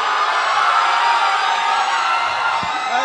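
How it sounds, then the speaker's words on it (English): A talent show finals crowd applauds and cheers for a dancer, a dense steady roar of clapping and whoops filling the whole moment at close range. "round of applause for Deepak"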